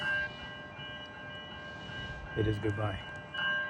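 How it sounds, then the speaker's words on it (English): Train pulling into Southern Cross station in Melbourne, a steady rumble with rising wheel and brake squeals near the end, while a person talks over it. "That's probably my train."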